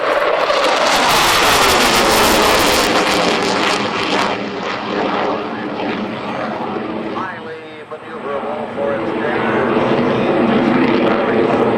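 An F-4 Phantom II jet roars past in a high-speed pass at an air force base air show, a loud rushing, thundering sweep that stays heavy throughout with a brief dip, while an announcer talks over it.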